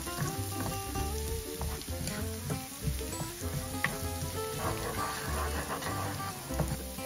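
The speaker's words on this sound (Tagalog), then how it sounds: "After few seconds, lagay na rin natin ulit ang garlic. Then, saute." Garlic sautéing in oil in a pan for a Filipino-style paneer burji, a close, steady sizzle with crackling pops and scraping stirring strokes throughout, no talk.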